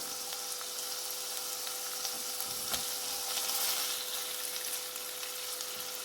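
Paneer cubes frying in hot oil give a steady, bright sizzle that holds close and even throughout, with one brief clink partway.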